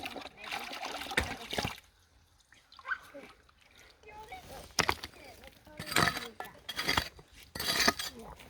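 Water sloshing over loose gravel and sand in a gold pan, with bursts of trickling, splashing and clinking stones between quieter stretches, heard up close alongside someone talking.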